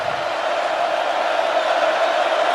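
A college football stadium crowd at Boise State at Oregon roars in a steady, loud, broad wash of cheering that holds without a break.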